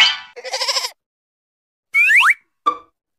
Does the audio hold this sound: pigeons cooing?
no